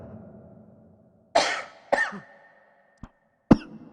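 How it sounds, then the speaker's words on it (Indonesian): A person coughs during an online class, with three or four sharp, close coughs in short bursts over a few seconds and quiet gaps between them. "Batuk dulu."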